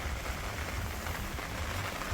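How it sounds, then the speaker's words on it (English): Rain pattering steadily at a carp fishing swim on a club water, a constant broadband hiss close by and alone, with no talk. "hopefully the rain will ease off and the wind will go back to its original position"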